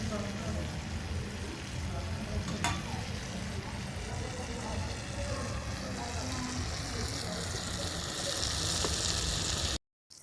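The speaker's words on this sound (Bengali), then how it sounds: "এবার একটু ভাজা ভাজা হবে" Steady sizzling of pointed gourd frying in a pan, close and continuous, with a soft clink midway and a brief cut to silence at the very end.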